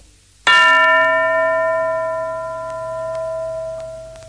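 A single classroom bell strikes clearly and rings on, its bright tone slowly fading over several seconds.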